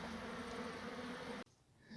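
Bees from a relocated brick beehive in Gisborne hum in a steady, close buzz for about a second and a half, then drop away abruptly to a quieter background.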